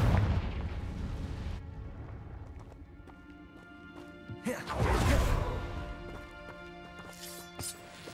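A Confringo spell explodes in Hogwarts Legacy, giving a low burst that swells and fades over a couple of seconds amid game music, after an earlier muffled rumble.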